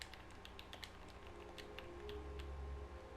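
Quick keystrokes on a computer keyboard, clicking in uneven bursts over a low steady hum, close and fairly quiet, while a PlayStation search is typed in.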